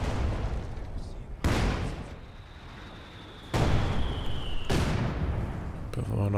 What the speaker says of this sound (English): There's this barrage here.